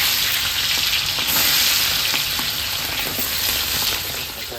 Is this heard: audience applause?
no